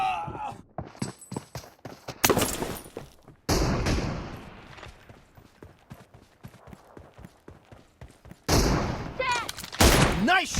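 Gunfire in the battle royale game PUBG: sharp bursts of rapid shots and single cracks recur through the clip, some loud and close, others thinner and distant, with brief game sounds between them.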